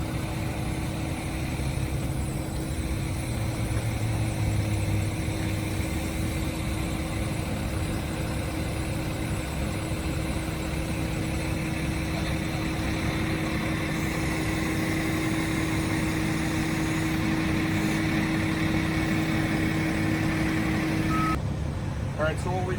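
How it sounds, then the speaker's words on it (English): A wheel loader fitted with forks works nearby, loading a pallet of traffic cones, its engine droning steadily with a reversing beeper sounding throughout. "Here you'll see our cone pallet being loaded by our wheel loader with forks."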